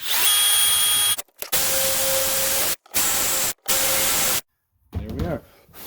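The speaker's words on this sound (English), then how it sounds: "I'm using a 1/4 inch bit here, and I'm just going to run straight through" Power drill with a 1/4 inch bit boring straight through a board: several loud, steady whining bursts separated by short silences, close up, ending in a brief clatter.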